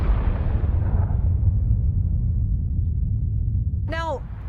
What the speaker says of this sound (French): tout explose à partir du centre, comme dans une bombe.